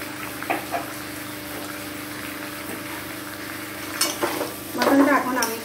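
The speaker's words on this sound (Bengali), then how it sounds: "মাটনটা এখন আমি খুব ভালো করে কষাবো।" Mutton for a curry being stirred and fried in a pan: a low steady sizzle with a few louder scraping stirs near the end, fairly quiet and with no talk.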